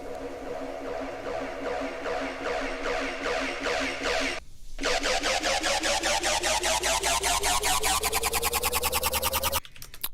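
A synth bass in an electronic music build-up pulses in rapid, rising repeated hits with reverb, a short gap midway, then growing louder and nearer before cutting off at the end.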